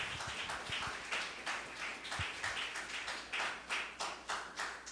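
A church congregation claps hands in a steady, regular rhythm, many hands together in a reverberant hall, sustained throughout with no speech over it.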